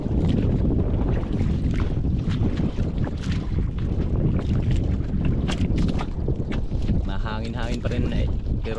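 Strong wind buffeting the microphone outdoors near water while fishing, a constant roaring rumble with a voice speaking briefly under it.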